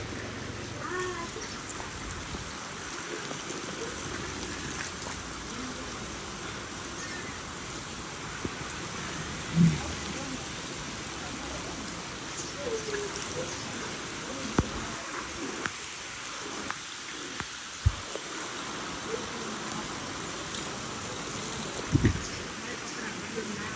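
Steady rain falling outdoors in a Gujarati village farm setting, a continuous soft wash of drops with occasional brief knocks and faint voices in the background.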